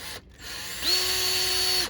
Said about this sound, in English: So now I have to drill a new 3/8 inch hole for the new chlorinator.